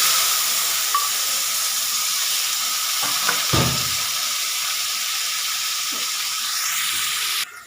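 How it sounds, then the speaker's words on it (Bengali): Loud, continuous hiss of chopped onions frying in hot oil, with a few stirring knocks partway through before it cuts off abruptly. "এখানে আমার ফোড়নটা গরম ইয়ে হয়ে গেছে এখানে আমি দিয়ে দিচ্ছি কেটে রাখা পেঁয়াজগুলো"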